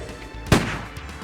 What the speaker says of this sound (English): Wesker sends Jill to check out a gunshot they heard